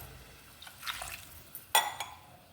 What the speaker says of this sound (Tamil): ஒன்றரை கிளாஸ் தண்ணி சேர்த்துக்கலாம்